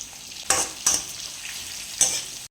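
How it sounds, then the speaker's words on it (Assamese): Ginger garlic paste frying in hot oil, a soft steady sizzle punctuated by three sharp scraping clinks of a utensil stirring the pan. "এই আদা নহৰুখিনি অলপ ভাজা গৈছে"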